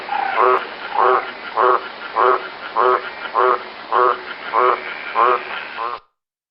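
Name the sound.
green tree frog croaking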